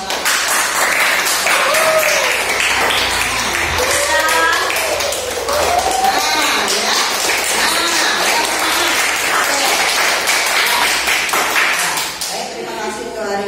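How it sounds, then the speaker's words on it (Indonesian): A class or group claps at the close of a teacher training session, loud and steady applause filling the whole stretch with voices and chatter mixed in, fading slightly near the end. "berikan tepuk tangan untuk kita semua karena kita semua sudah melakukan."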